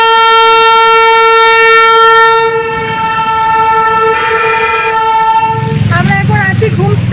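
A Darjeeling toy train sounds its horn at Ghum station on a rainy day, a loud, sustained tonal blast followed by a second horn sounding, with people talking over the rumble at the end.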